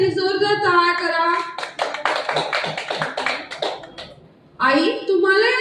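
A small audience at a therapy centre gathering breaks into a few seconds of scattered hand clapping, framed by a speaker talking before and after the burst.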